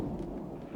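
Low rumbling thunder from an animated Asterix film, a steady, fairly loud roll that fills the short moment on its own with no voices over it.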